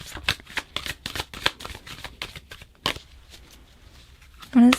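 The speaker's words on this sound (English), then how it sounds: "I'm going to go ahead and shuffle that in for you." Tarot cards are shuffled up close in quick crisp riffling bursts, a steady run of soft snaps that thins out near the end before a brief vocal sound.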